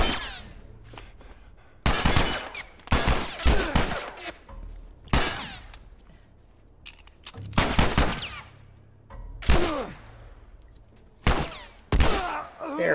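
Gunfire in The Last of Us video game, with bursts of sharp, loud shots in clusters separated by short quiet gaps.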